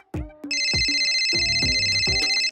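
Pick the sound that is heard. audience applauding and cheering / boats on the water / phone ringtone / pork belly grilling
phone ringtone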